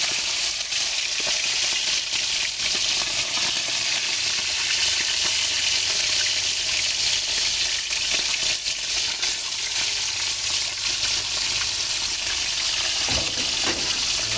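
Fish fries in hot oil with a steady, dense sizzle that carries on loud and unbroken throughout, with faint scraping and watery clatter now and then and no talk.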